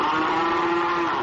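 Distressed cattle in a Sumatran slaughterhouse give a loud, sustained low moo or bellow that holds steady across the whole moment, with noisy surroundings behind it.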